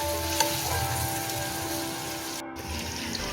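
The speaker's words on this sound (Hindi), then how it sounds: "ये जो हमने प्याज फ्राई करने के लिए रखी है" Sliced onions fry on medium heat in a pan, a continuous moderate sizzle heard close and alone, with a faint clink near the start.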